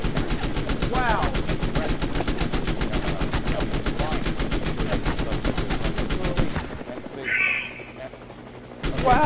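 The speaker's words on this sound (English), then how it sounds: "they're still shooting him" Gunfire in the video game Duck Season: a loud, sustained rapid stream of shots for several seconds, which then drops away to quieter game sounds.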